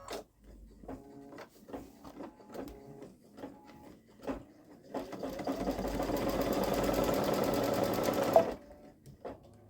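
A Babylock Solaris embroidery sewing machine stitching a tack-down, first with sparse clicks and short motor bursts, then running steadily at a loud whir for several seconds before stopping abruptly.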